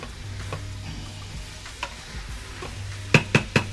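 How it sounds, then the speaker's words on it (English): Garlic stirred in a pot on sear mode for red beans and rice, with soft scraping and a low sizzle, then a quick run of four sharp utensil knocks against the pot near the end. "we're gonna stir that up a little bit. Get the garlic in there."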